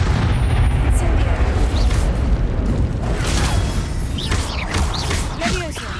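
Incendio fire spell cast in Hogwarts Legacy, a loud, dense barrage of booming, crackling magical bursts and whooshes layered over continuous game effects.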